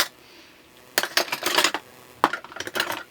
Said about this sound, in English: So Shaun is now mixing together the butter and the sugar